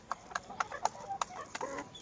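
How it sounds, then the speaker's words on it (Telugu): Young rooster chicks on a small farm give short, soft clucks and cheeps, about eight quick calls in irregular bursts, close by but faint, with no talk. "ఇగో ఇదొక పుంజు పిల్ల, ఇదొక పుంజు పిల్ల, ఇదిగో ఆడొక పుంజు పిల్ల"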